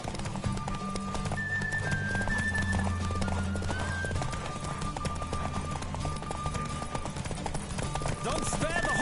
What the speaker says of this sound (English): Don't spare the horse! I adore the speed, the rush of air.